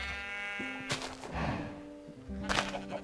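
Sheep bleating in the video game Minecraft, a few short wavering bleats close up, with soft thuds and game background between them.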